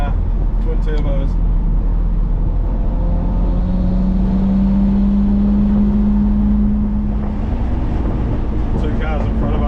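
A twin-turbo R33 Nissan GTR making around 350 kilowatts drives on a race track, a steady engine drone with a rising tone beneath continuous talking.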